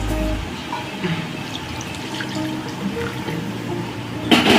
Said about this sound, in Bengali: বাকি দুধটা দিয়ে দিচ্ছি, নারকেলের দুধ